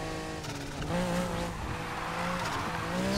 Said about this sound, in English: You can drift around that corner.